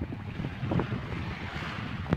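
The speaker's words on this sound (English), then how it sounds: "Look, it's the waves" Ocean waves at a beach roll in as a steady, broad wash of surf, loud and close, with wind buffeting the microphone throughout.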